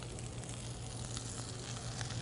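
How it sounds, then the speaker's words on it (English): Spinach sautéing in a pan with bacon and onion gives a steady, dense sizzle that holds at an even loudness for the whole stretch, with no voices over it. "we're gonna go ahead and saute down our spinach"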